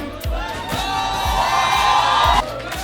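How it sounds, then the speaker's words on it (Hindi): A crowd at a Delhi press conference for the movie Fateh with Honey Singh and Sonu Sood cheers and whoops loudly in a sustained roar, with booming thumps pulsing underneath, ending suddenly. "एक बार जोरदार तालियां आ जाए"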